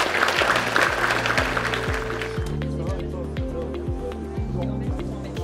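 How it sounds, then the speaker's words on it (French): Audience applause at a building inauguration at IUT Sénart-Fontainebleau, a dense burst of clapping that fades after a couple of seconds as a voice begins speaking over it. "Donc je pense qu'on peut les applaudir."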